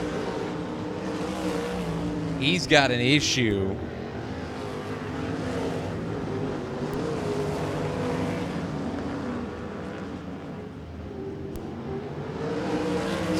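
Sprint car engines roar around Tulsa Speedway in a continuous droning pack, with one car revving sharply up and down close by early on, while a commentator talks briefly over the noise.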